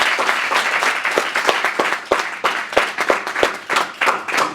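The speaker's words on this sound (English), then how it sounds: "Give yourself a round of applause." Enthusiastic applause from a conference audience at a leadership lessons event, lively clapping with distinct sharp claps standing out in an uneven rhythm across the whole stretch.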